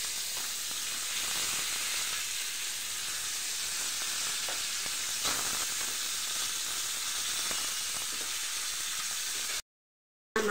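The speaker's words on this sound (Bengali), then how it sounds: "মাছ ভাজা হয়ে গেছে" Koi fish frying in oil in a pan, giving a steady, close sizzle that holds at an even level for about nine and a half seconds, then drops away abruptly, with no one talking.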